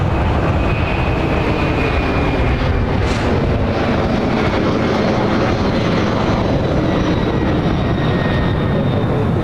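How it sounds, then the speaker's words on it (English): An Airbus A300 airliner passes overhead outdoors, a loud continuous roar of jet engines with heavy wind buffeting on the microphone throughout and a faint whine riding above it. "There's the flight heading to Santa Ana and then Airbus A300."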